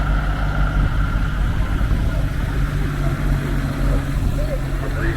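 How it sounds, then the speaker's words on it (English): An early DAF lorry tractor unit, from around 2000, rumbles steadily as it arrives at a steam and country show, its engine drone continuous and fairly close with a low idling-like hum throughout. "The second tractor unit that's just come in is a very early"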